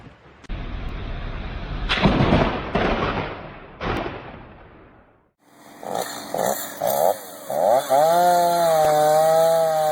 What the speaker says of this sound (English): In such cases, the only way to stop the fire is to cut down the tree.